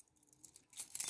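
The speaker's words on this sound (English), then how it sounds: "These are my house keys." House keys jangling close by in a short metallic burst, soft at first and then a louder clinking rattle toward the end, with no voices.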